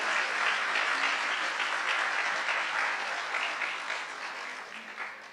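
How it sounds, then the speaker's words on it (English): Round of applause at a general meeting honouring thirty-year service, a moderate room of people clapping steadily, then tapering slightly toward the end. "one more round of applause for our 30 years"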